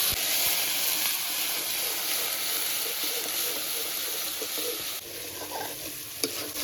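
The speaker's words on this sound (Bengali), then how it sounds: "অল্প জল দিয়ে ভালো করে মশলাটা কষাবো" Spice paste for Bengali tel koi fries in oil with a little water, giving a steady close hiss and sizzle that runs the whole time, with faint stirring scrapes and no voices.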